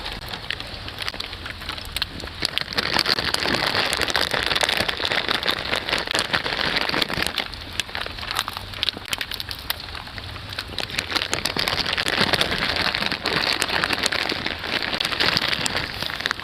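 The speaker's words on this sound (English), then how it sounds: "Cause it'll be wet and rainy as fuck." Rain pours down beside a porch, a dense hiss of drops striking surfaces that swells and eases over about sixteen seconds, close and steady with no speech.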